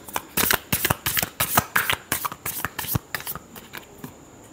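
Tarot cards being shuffled by hand in a rapid run of crisp riffling bursts, close and steady, tapering off near the end, with no voices.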